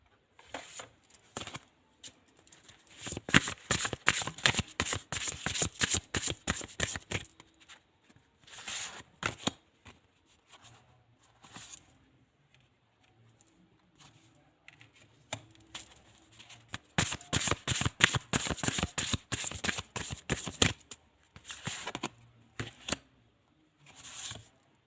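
Tarot cards shuffled by hand in several long bursts of rapid riffling and flicking, with short pauses between them, close and crisp with no talking.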